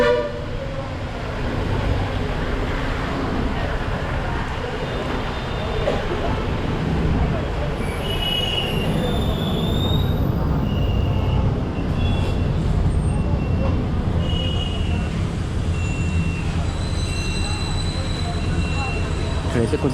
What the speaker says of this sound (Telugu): ఎక్బోర్ రైల్వే స్టేషన్ కూడా చాలా వరకు పెద్దది మోర్ దెన్ మీకు మూడు వందల ఇరవై ట్రైన్స్ ఈ స్టేషన్ మీదుగా పాస్ అవుతాయి